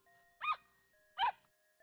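Pippi the dog barks twice in the video game Ever 17, two short, sharp yaps about three-quarters of a second apart over a soft, sustained musical tone.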